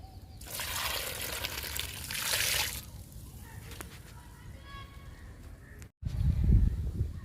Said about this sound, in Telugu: కరివేపాకు మొక్కకి ఇచ్చేద్దాము లిక్విడ్ని.